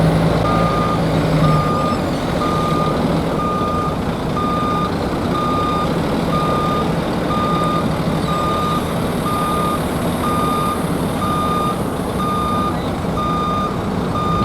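A truck reverses with steady, evenly spaced backup beeps sounding over a constant engine drone, loud and close, alongside cranes at a harbor near a coal loading terminal.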